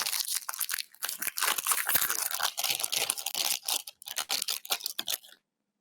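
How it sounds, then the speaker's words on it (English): Someone munches snacks close to an unmuted microphone during an online meeting, giving dense, irregular crunching and crinkling bursts that stop suddenly into silence. "otherwise we can hear you munching whatever snacks in front of you"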